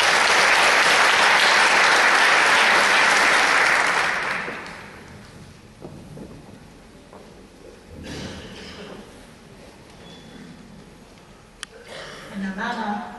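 Loud applause from an audience of representatives welcoming New Zealand Education Minister Anne Tolley at an annual meeting, a dense sustained clapping for about four seconds that fades, leaving quiet room noise.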